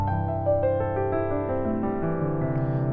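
A right-hand pentatonic arpeggio played on piano, running from right to left, its notes ringing out and overlapping in a steady, sustained flow, close and clear with no talking.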